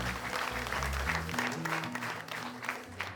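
A church congregation claps steadily throughout at a pastor installation ceremony, with a low musical or vocal drone underneath.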